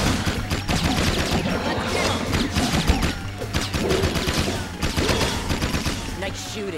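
Rapid bursts of video game gunfire from Jak 2 crackle continuously and loudly, overlapping shots and explosions forming a dense fusillade with game voices mixed underneath.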